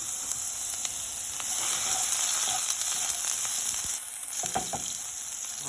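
Ground beef sizzles and spits in a hot greased pan for homemade beef chili, a steady close frying crackle with a few scraping stirs of a spatula and no talking.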